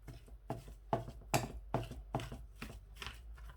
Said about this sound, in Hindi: अब इन तमाम चीज़ों को आहिस्ता आहिस्ता से मैं ऐसे मिक्स करके